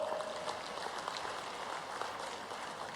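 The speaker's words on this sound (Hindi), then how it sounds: "आप हाथ की ताली तो बजाओ" An audience at a political rally with Chief Minister Mohan Yadav claps in a steady, even patter, continuous and fairly distant throughout, with no voice on top.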